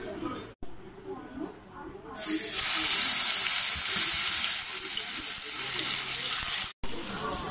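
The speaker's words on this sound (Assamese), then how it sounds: "এয়া মাছ ভাজি আছো" Fish sizzles loudly in hot oil, a dense, steady crackling hiss that starts after a couple of seconds of quieter background.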